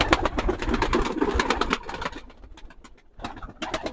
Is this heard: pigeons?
yes